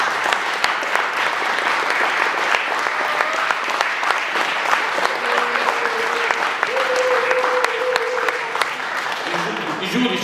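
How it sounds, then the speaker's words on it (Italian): Sustained audience clapping for Volderico at a live contest, loud and continuous, with some voices and whistles rising over the applause toward the end. "Due applausi per Volderico"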